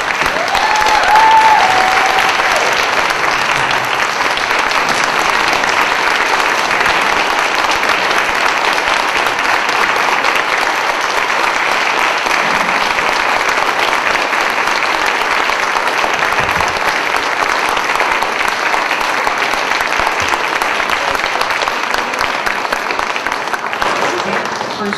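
An audience in a hall gives sustained applause to an honoree, the first Black female volunteer, at a Democratic honoree event. Loud, dense, even clapping carries steadily through the full twenty-five seconds with no letup.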